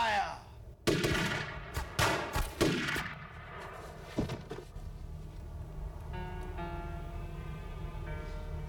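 A volley of rifle gunfire rings out in a film scene: several loud sharp shots crack in quick succession near the start, then echoes and rumbling reverberation fade under a sustained background tone.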